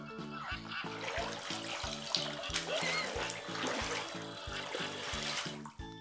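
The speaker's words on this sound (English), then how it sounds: "Let's turn on the bathtub for Bingo." A bathtub filling from running tap water gives a continuous trickling wash, steady throughout, with a bouncy rhythmic music track pulsing underneath.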